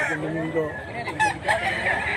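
Gamecock at a Filipino rooster sale crowing close by in a short rising call, with a faint voice in the background.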